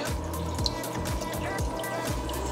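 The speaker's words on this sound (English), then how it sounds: "We just want a slow drip." Water from an aquarium drip acclimator, set to a slow drip, falls into a container with steady, close, evenly spaced drips over a constant trickling wash.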